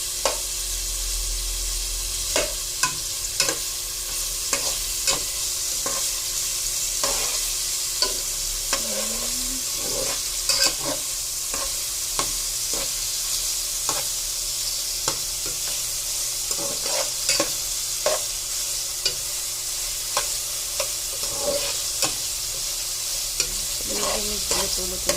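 Tomatoes being mashed in a hot pan while cooking sinigang with salmon: a steady sizzle runs throughout under repeated scraping and tapping strokes of a spoon against the pan, close and even, with no talking.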